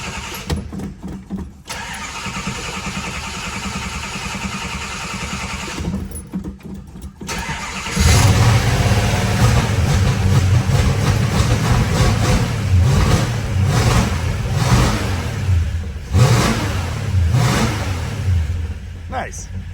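A 5.9 Magnum V8 swapped into a 1964 Dodge Dart cranks several times, fires and settles into a loud, close, rough idle with repeated revs, with a voice speaking over it.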